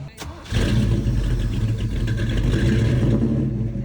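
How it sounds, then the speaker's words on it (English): A loud, throaty V8 engine in a 1960s classic muscle car at a car show roars to life after a brief pause, then revs and rumbles steadily with deep low-end growl. "Just listen to that engine. Now that's what a muscle car is supposed to sound like."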